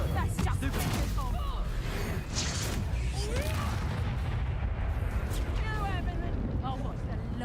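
Incendio fire spell cast in the video game Hogwarts Legacy: a loud, dense whooshing blast with crackling bursts and chirping effects, filling the whole clip over constant game sound.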